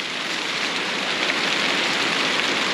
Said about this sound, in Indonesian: Hujan kawan, aduh, teduh dulu sini. Kita berteduh dulu. Hujan ya